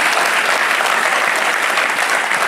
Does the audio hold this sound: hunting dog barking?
no